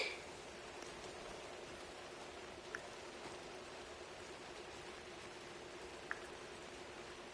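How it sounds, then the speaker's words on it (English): Rain falls in the video game Alan Wake 2 as a faint, steady hiss, broken by a couple of tiny ticks, with no one talking. "Rain."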